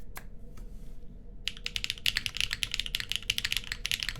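Close, crisp typing on a top-mounted Gehirn60 Anamoly MX mechanical keyboard with stock switches, GMK keycaps and no foam: a few isolated clicks, then a fast, dense run of clacking keystrokes.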